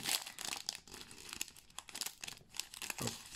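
A Magic: The Gathering booster pack wrapper from an advent calendar being torn open: close, continuous crinkling and crackling of foil plastic for a few seconds, with no talking.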